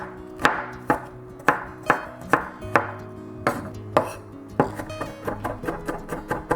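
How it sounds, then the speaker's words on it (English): A knife chopping food into small pieces on a board for a Chinese chicken-wing and noodle dish, a steady series of crisp, close chops, speeding up into quicker, lighter strokes near the end. "Cut into small pieces first."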